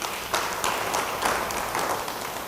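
A church congregation claps together in dense, steady applause that holds at an even level throughout, heard from within the room.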